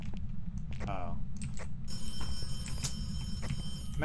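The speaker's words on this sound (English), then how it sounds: "Man, I don't want to answer the phone." Phone ringing in the ghost-hunting game Phasmophobia, its bright bell tone repeating steadily over a constant low rumble, with brief voiced sounds near the start.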